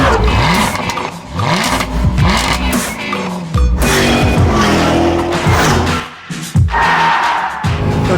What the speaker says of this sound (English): This engine just revs and revs and revs.